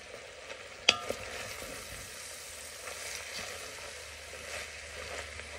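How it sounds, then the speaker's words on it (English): Steady low sizzling of onion and sausage frying in a pot over medium-high heat, with a sharp clatter of a utensil near the start and faint stirring scrapes. "we're going to keep frying this over a medium-high heat until the onion softens"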